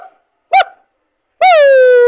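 A person imitates a dog barking with the voice, giving one short sharp yelp followed after a pause by a longer drawn-out howling bark, loud and close with nothing else heard.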